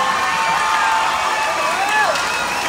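Large festival concert crowd at the Festival Internacional del Volcán cheering and applauding, a dense continuous roar of voices and claps with scattered whoops, loud and sustained throughout.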